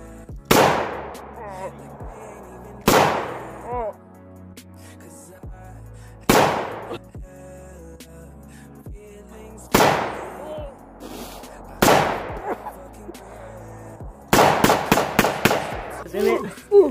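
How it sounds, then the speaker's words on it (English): Rifle shots from an AR-15 and a Tavor crack out in the woods, a series of loud single reports spaced a few seconds apart with ringing echo, ending in a quick rapid burst; voices are heard briefly between shots. "Shooting in the woods. We're shooting. He has an AR-15 and a Tavor."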